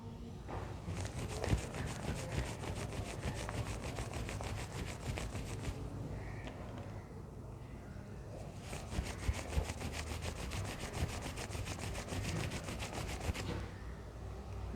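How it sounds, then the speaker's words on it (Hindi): An object being rubbed back and forth on cloth to build a static charge, giving a steady, close scratchy rubbing with a fast repetitive texture that briefly eases off midway before resuming; no talking. "ऑब्जेक्ट को रब किया क्लॉथ के ऊपर"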